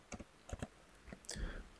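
Quick keystrokes on a computer keyboard entering a command, a few separate clicks followed by a short cluster of taps, close and quiet.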